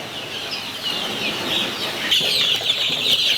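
Fayoumi chickens at a poultry seller's cluck and squawk in a continuous, busy chorus, fairly close, with no one speaking.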